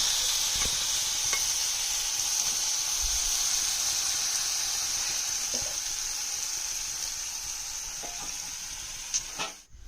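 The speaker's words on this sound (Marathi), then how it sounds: "मस्त फिरून घेऊन टोमॅटो जरा शिजायला द्यायचा" Tomatoes cooking in a pan for a village-style wet cashew curry, giving a steady close sizzle with faint stirring clicks throughout, no talk.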